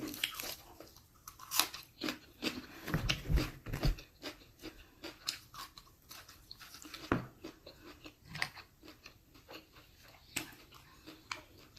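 Crunchy biting and chewing while eating boiled field snails with dipping sauce and crisp leucaena leaves, irregular close crunches and soft mouth sounds repeating throughout, no talking.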